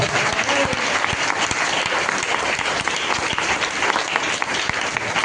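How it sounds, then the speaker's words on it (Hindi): A church congregation at a Sunday service applauds loudly and steadily, dense clapping filling the whole stretch without a break. "जोरदार ताली बजाओ"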